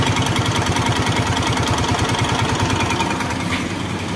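A Hero motorcycle engine runs steadily at idle, a close, loud, even low-pitched throb with a regular pulsing beat, continuous throughout with no voices.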